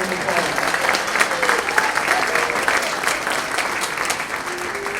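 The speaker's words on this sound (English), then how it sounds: "Please give them a round of applause." Audience applause at a seventh- and eighth-grade winter band concert, broad steady clapping from a crowd with scattered voices underneath, loud and continuous throughout.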